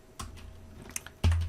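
Keystrokes on a computer keyboard entering a short phrase, a few separate clicks spread out, then a louder, heavier thump near the end over faint room noise.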